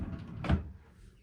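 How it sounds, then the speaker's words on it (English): A cabinet drawer fitted with a single soft-close damper slides closed with a low rumble and one dull thump at the end, close by, then fades to quiet. "Here is a drawer with 1 damper."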